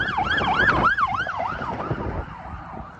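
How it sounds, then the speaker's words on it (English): An emergency vehicle siren wails past with a rising and falling warble, loud at first and fading as it moves away over faint traffic rumble, with no voices. "Sirens go by while everyone's running."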